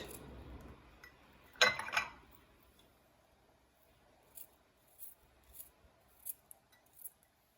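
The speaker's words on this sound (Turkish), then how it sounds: "Koyduktan sonra aralara sarımsağımızı doğrayacağız arkadaşlar." Garlic cloves cut into a jar of jalapeno pickle in a quiet kitchen, with a sharp crisp crunch followed by scattered soft taps and clicks spaced out over several seconds.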